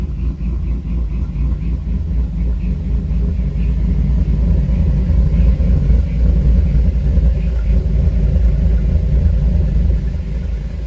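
An LS-swapped C3 Corvette engine running on a warm-up drive to operating temperature, a loud steady low rumble with a constant drone that holds throughout.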